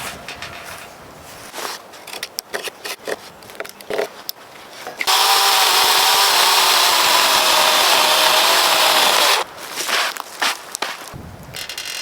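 A chainsaw roars loud and steady for several seconds as it scores a cut into timber for tenons in a timber frame pergola build. Wooden knocks and shuffling footsteps come before and after the cut.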